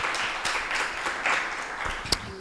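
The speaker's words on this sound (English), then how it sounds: "Can we please give him a round of applause again?" Moderate audience applause at an academic research and innovation session, scattered claps forming a steady patter with a few sharper individual claps standing out near the end.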